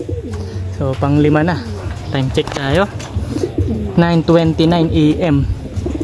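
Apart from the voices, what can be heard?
pigeons arriving at the loft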